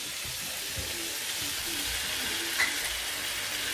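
King prawns sizzling in a hot pan with Mediterranean vegetables, a steady close crackling fry with a brief stir-like clink partway through and no talking.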